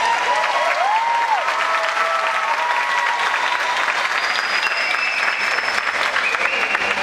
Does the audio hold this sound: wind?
no